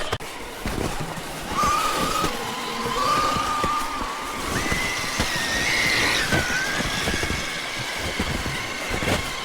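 RC car motor whining up and down in pitch while driving over rough outdoor terrain, with rumble and crunching bumps throughout at moderate distance.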